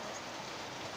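Heavy rain during a storm with strong wind, a dense steady hiss of falling water that fills the whole clip with no breaks.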